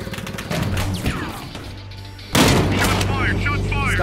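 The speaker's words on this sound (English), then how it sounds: "Shots fired!" Gunfire and a heavy crash in the Battlefield Hardline police shooter, a sudden loud burst of shots and impact noise that breaks in midway and continues beneath voices talking.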